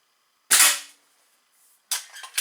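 A Slavia 630 .177 (4.5 mm) air rifle, made in the Czech Republic, fires two sharp, loud shots about a second and a half apart during a muzzle velocity test, each a crisp crack with a brief decaying tail.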